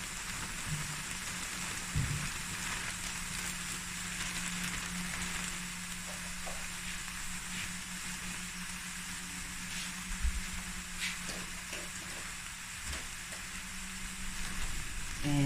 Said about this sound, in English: And I'm going to add my brown rice that I kept.